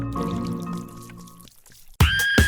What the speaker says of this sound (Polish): Wszystko kapie na stół.